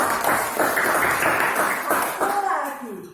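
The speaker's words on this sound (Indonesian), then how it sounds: "Wah, pinter, tepuk tangan anak-anak" Children in a classroom religion lesson clap together in a short rhythmic burst of hand claps, close by, with voices heard through it before it fades.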